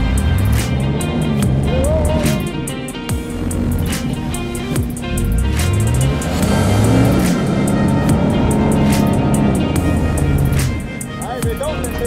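An off-road vehicle engine roars at full throttle through mud, revs surging and sweeping up and down, loud and close, with people talking over it.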